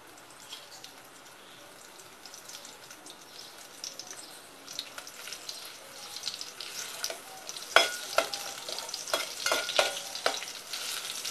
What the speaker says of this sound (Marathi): ज्यामध्ये किंचित हिंग आणि टेचलेला लसूण फोडणीला टाकते